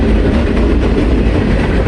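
A very long freight train rolls past close by during a heat wave, a loud, steady roar of rail cars with faint rhythmic clatter and no talking.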